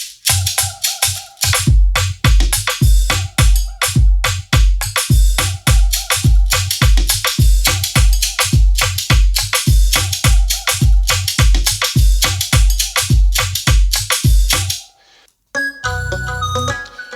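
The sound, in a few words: studio beat of drums, melody and flute playing together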